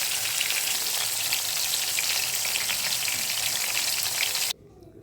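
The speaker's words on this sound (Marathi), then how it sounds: "शॅलो फ्रायमध्ये बोंबील तव्याला चिकटले जातात म्हणून त्याला डीप फ्राय केलं जातं" Bombay duck fish deep frying in hot oil gives a loud, steady crackling sizzle that runs continuously and then cuts off abruptly near the end.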